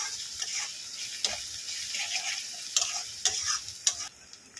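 Spices stirred and sautéed in a sizzling pan for white egg korma made without turmeric, with a steady close fry hiss broken by several sharp spoon scrapes and taps against the pan, no voices.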